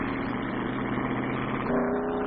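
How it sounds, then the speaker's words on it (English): A race car launches hard from the start line, its engine roaring loud and steady for a couple of seconds with a slight shift in pitch near the end, close and continuous with no talking. "The car fishtailed at the takeoff."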